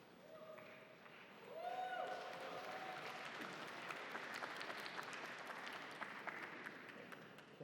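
An audience at a gala breaks into applause, which swells quickly and holds as dense, steady clapping, with voices and a few tones underneath.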